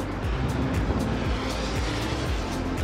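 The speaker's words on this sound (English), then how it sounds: "Those are wingtip vortices that are like the spiral off the wing after an airplane flies over." A fixed-wing airplane passes overhead near LAX, a loud steady roar with swirling, rushing wingtip vortices churning through the air, close and continuous with no voices.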